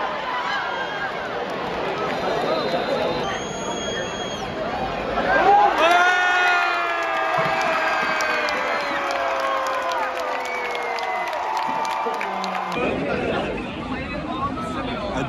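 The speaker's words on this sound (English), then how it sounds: "Fourth quarter, still a good crowd." Stadium crowd at a Florida State versus Jacksonville State college football game, fourth quarter: a broad, distant roar of cheering and chatter swells midway, with shouts and whistles rising above the steady din.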